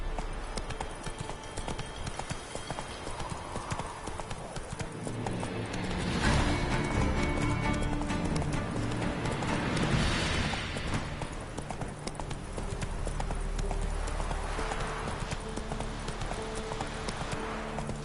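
A horse gallops in the Witcher 3 video game, rapid steady clip-clop hoofbeats running continuously at a moderate level over a faint ambient game background.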